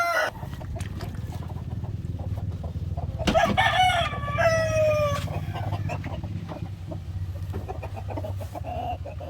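Chickens sick with colds cluck steadily while a rooster crows loudly nearby once mid-way, with faint farmyard background noise throughout.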